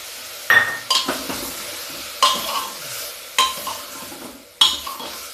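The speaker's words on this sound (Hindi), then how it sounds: "अब ये मसाला भी हम भूनेंगे।" Ridge gourd roasting with a spice mix in a pan, a steady sizzle broken by five or six loud scraping strokes of a spoon against the metal, evenly spaced and close.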